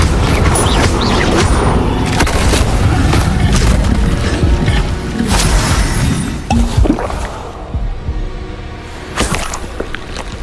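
Incendio fire spell cast in Hogwarts Legacy, a loud, dense burst of booming, crackling magical blasts that runs continuously for several seconds, then thins into scattered impacts and softer crackles.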